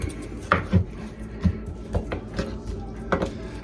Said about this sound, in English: here's the round steak I got out of the freezer, and I'm just gonna cube this up